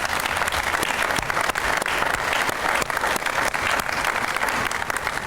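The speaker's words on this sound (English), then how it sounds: "Let's give them a great hand of applause, folks." A crowd applauds incoming students at the ribbon cutting for the USF St. Petersburg Student Center, loud, sustained clapping from many hands, dense and even throughout, with no one talking over it.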